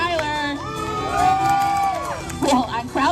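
A crowd at a truck show cheers and shouts, with children's voices and whoops riding over a loud, sustained roar that swells in the middle and flares again near the end, with voices mixed in.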